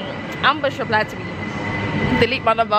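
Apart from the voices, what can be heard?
train at London Victoria Station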